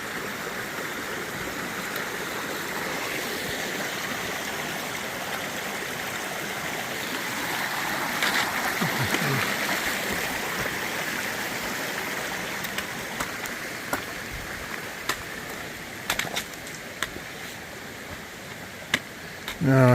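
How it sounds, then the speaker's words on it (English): Mill Creek, a fairly large creek in the Shenandoah area, flows in a steady, close, continuous rush, with a few small clicks and knocks near the end. "Pretty big creek."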